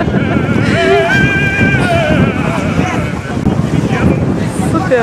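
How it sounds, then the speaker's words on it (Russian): Strong wind buffeting an outdoor microphone near the water, a steady loud rumble filling the whole clip, with faint voices and other sounds partly buried underneath. "Ветер жуткий"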